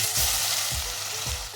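Onion and garlic paste hisses steadily in hot oil tempered with bay leaf, dried red chilli and cumin, with three evenly spaced scraping stir strokes sounding close over the continuous loud sizzle.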